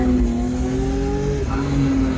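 Noisy differential of a BMW E36 car, a loud continuous mechanical whine and drone with shifting tones over rumbling road and engine noise, close up and unbroken throughout.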